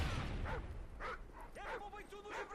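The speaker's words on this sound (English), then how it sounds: "we're getting the attack dogs already here at wave 3" Attack dogs in the Modern Warfare 3 Survival Mode video game, several short barks and yips spread across the moment over a noisy game background.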